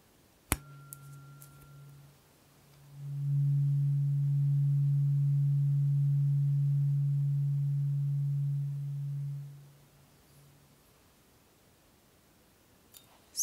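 A steady low beep tone from a hearing test is played through headphones and holds for about six seconds, clean and alone, with a couple of soft clicks before and after it.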